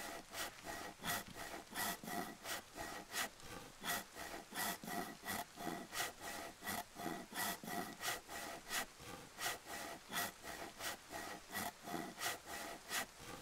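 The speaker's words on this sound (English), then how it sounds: "Hang on, man. I'm sawing this shit." Steady rhythmic back-and-forth sawing through wood in the survival game DayZ, about two strokes per second, continuous and moderately loud with no talk over it.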